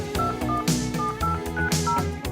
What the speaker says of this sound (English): just dial the number like you normally would